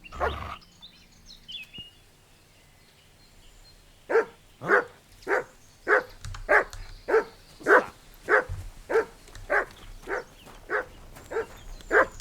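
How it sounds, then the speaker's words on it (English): A dog barks in the video game Kingdom Come Deliverance 2, sounding a steady run of about a dozen evenly spaced, fairly loud barks after a quiet start. "Call off that dog"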